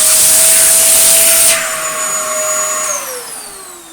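A Dyson DC07 vacuum cleaner runs loud and close with a steady rushing roar and a high whine, which drop in pitch partway through and again near the end as the motor note sags.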